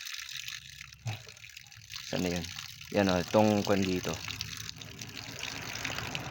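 Water runs steadily from a tap during a refill stop on a bike ride near Baguio City, Benguet, a soft continuous flow beneath a person talking nearby.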